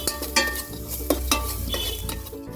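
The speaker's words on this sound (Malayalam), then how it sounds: "അപ്പം നെയ്യാണ് ഒഴിച്ചു കൊടുക്കുന്നത്" Ghee poured into a hot pan for a soup, a close crackling sizzle with a few sharp stirring clinks and pan knocks over a constant low hum.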